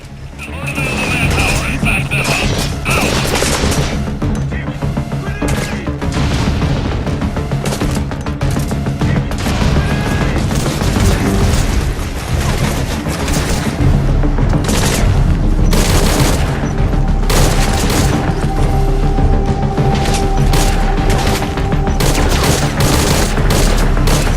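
Gunfire in the video game Metal Gear Solid 5: Ground Zeroes crackles in loud repeated bursts and rapid volleys with booming impacts, continuing across the whole stretch amid game sounds.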